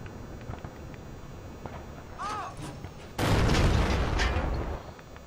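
A tank gun fires in World of Tanks: one heavy, booming shot erupts midway and rolls on for about two seconds, following quieter in-game rumbles and a brief metallic ring.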